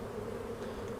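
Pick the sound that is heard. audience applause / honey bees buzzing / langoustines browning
honey bees buzzing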